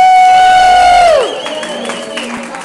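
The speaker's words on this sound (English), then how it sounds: "Here's where you give the big round of applause" At a seniors' resource center business networking evening, a loud falling 'woo' whoop opens, then gives way to lighter scattered clapping and crowd cheering further back.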